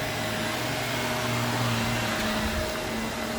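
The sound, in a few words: vacuum cleaner running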